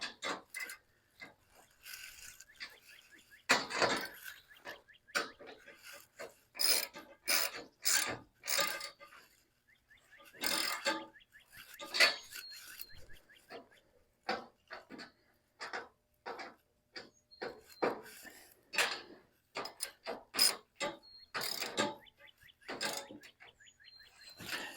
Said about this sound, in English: I think he's tightening up those last few screws